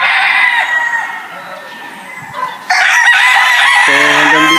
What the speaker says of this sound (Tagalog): Grabe, kaganda ng mga manok ni Boss Aga.